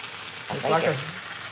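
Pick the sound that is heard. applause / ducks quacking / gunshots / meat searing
meat searing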